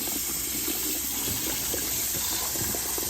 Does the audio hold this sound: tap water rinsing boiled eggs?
yes